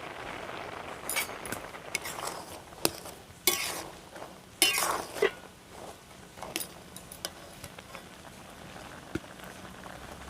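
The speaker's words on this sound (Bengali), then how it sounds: "এবার ঢাকনাটা খুলে আমি দেখে নেব মটরটা সিদ্ধ হয়েছে কিনা।" Lid lifted off a pot of boiling peas and potatoes for ghugni, followed by bubbling and scattered clinks and scrapes of metal cookware, moderately close with no talking.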